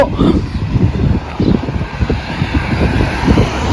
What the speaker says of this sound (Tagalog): ang lakas talaga ng hangin ba?